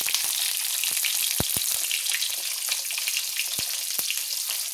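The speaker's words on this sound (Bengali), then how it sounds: "বেগুনগুলো একটু হালকা লাল লাল করে ভেজে নেব।" Sliced eggplant with a little turmeric and salt frying in a pan, a steady dense sizzle running throughout with a few sharp pops and crackles, close and fairly loud, no voices.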